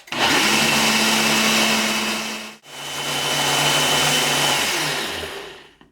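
Blender whirring through chopped sea moss to make gel, a loud close motor roar held steady for a few seconds, cut briefly, then restarting and running on before winding down.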